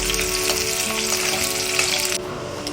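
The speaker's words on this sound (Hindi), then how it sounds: "इनको हल्का हम ब्राउनिश भूनेंगे।" Onions fry in a pan for a North Indian bottle gourd dal. A loud, dense sizzle runs close and constant, then eases off slightly near the end.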